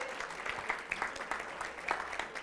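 An audience at a Canal Terrassa quiz show applauds steadily, a dense, moderately loud patter of clapping hands that carries on without pause and with no talk.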